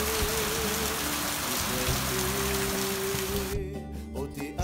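Steady rain shower falls in Manihiki in the Cook Islands, a dense continuous patter on surfaces with a low hum underneath, close and even throughout, with no talking.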